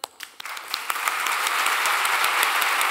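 A theater audience welcomes a musician with applause that starts with a few scattered claps and quickly swells into dense, loud, sustained clapping from the crowd.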